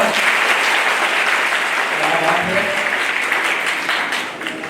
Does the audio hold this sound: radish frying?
no